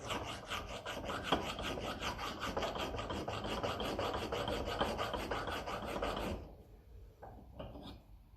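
A hand file rasps a chamfer on a metal part from a 1954 Ferguson 20 TEF diesel tractor, giving close, rhythmic back-and-forth strokes for about six seconds before stopping, followed by a couple of faint knocks.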